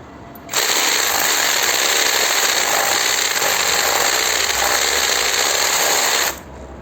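A Geevorks cordless screwdriver drill runs at high speed, a loud, steady whine that starts abruptly and holds for about six seconds before cutting off.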